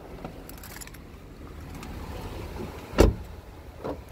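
A 2014 Jeep Grand Cherokee Summit locking after its driver steps out: one sharp, loud click-thunk of the locks, then a fainter short chirp, over quiet outdoor background.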